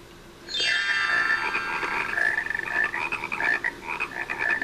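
Frogs croak in the educational counting game How Many Bugs in a Box: a bright opening croak leads into a continuous, rhythmic chorus of warbling croaks, loud and close, with no talking.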